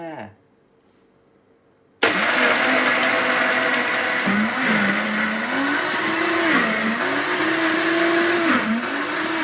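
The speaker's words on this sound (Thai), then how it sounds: "พร้อมไหมคะเราจะทำการปั่นแล้วค่ะ" Blender starts abruptly after a brief quiet moment and runs loud and close, a steady motor whine that rises and dips as it blends a coconut snow milkshake.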